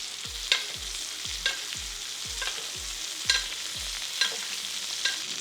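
Rack of lamb sizzles steadily in a hot pan of butter, with a rhythmic series of soft spoon-tap thumps roughly every second as the fat is basted over the meat, close and moderately loud.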